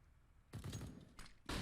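Rapid gunfire bursts from a Counter-Strike match in an ESEA Intermediate game, with a quieter stretch before a loud burst of shots begins and another hard volley at the end.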